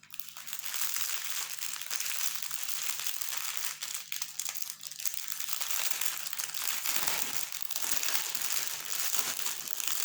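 Crinkly plastic zip bags of diamond painting diamonds being handled and opened, a dense, continuous crackling and rustling that stays loud and close throughout with no talking.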